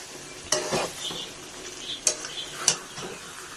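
Meat with a ground paste of cashew nuts, poppy seeds and melon seeds being stir-fried in a pan, with a few sharp spatula scrapes and clinks over a soft, steady sizzle.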